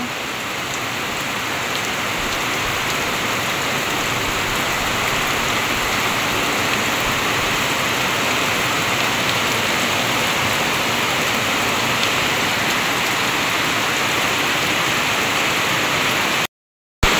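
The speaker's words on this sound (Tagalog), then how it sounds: "lakas po ng ulan talaga" Heavy rain pours down steadily and loudly, a dense continuous hiss on the roof and surroundings at a shop in the Philippine countryside, cutting out briefly near the end.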